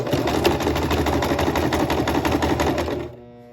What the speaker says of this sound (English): And I'm sewing just as close to the edge as I can.